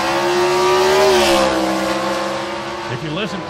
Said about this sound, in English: If you listen closely, you'll hear some of the cars are automatic transmission equipped like Lloyd's is